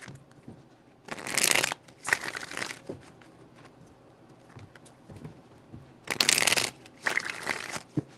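Tarot cards being shuffled in three distinct bursts of riffling and crinkling, close and fairly loud, separated by quiet gaps with faint handling noises.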